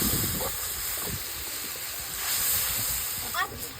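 Water splashed into a hot pan holding tomato, cumin, chili, ginger and turmeric, giving a steady steaming hiss and sizzle with a soft swell midway, with a voice talking briefly over it.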